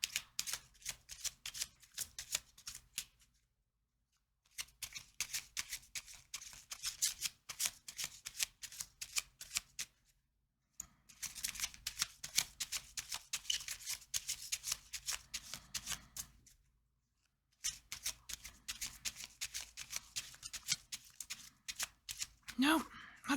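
Repeated riffling bursts of a Lenormand card deck being shuffled, several separate rounds of crisp flapping cards broken by short pauses, close and fairly quiet.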